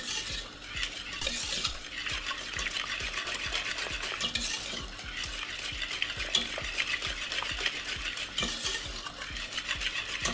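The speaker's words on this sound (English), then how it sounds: "Keep giving it a nice, lovely stir." White cheese sauce made with milk, stirred in a pot with a steady, rhythmic scrape and swish of the utensil against the pan, a soft bubbling beneath, and no one talking.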